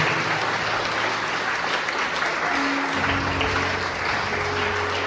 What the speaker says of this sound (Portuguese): Vamos aplaudir o nosso Deus mais uma vez.